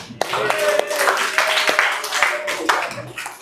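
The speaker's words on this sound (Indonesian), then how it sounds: "tepuk tangan untuk kita semua" A small group claps in a training session, with irregular, fairly close claps and a few sharp individual slaps over soft background talk.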